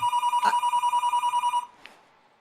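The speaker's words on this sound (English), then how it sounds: "have my phone ringing" A phone ringing close by during an online talk, with a loud, steady warbling electronic ring that pulses rapidly for about a second and a half and then cuts off.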